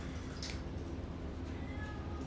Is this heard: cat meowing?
yes